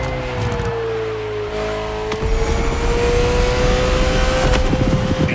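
Ferrari in The Crew Motorfest racing game, its engine droning then surging into a louder rising rev with a whining tone, tire noise and rumble building toward the end.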